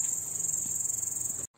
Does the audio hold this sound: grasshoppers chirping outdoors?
yes